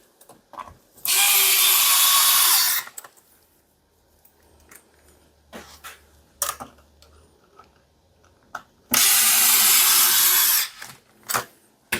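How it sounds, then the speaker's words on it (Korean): A power screwdriver drives the nozzle screw back into a water heater hot-water tank, two loud buzzing whirs of about two seconds each separated by quieter clicks and handling noise, with no talk. "그리고 아까 빼냈던 노즐 나사를 체결해 줍니다."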